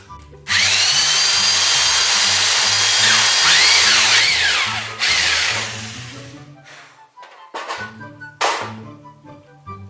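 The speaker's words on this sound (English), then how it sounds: "I'm going to just drill right through here with this drill bit" A loud power drill whines steadily, its pitch shifting as the bit bites through material on a homemade boat, then stops and restarts in shorter bursts toward the end.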